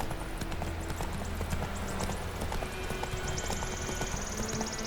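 A horse galloping in The Witcher 3, its hooves drumming in a quick, steady clip-clop rhythm over a constant game background, close and fairly loud throughout.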